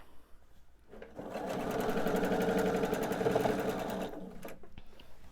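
A sewing machine stitches pieced quilt units for a pillowcase, a fast even whirring run of about three seconds that starts and stops cleanly, close and moderately loud with no talk.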